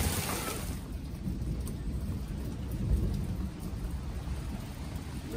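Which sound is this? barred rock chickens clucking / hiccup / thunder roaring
thunder roaring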